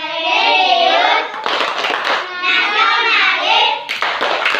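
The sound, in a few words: group rhythmic clapping chant, Tepuk PPK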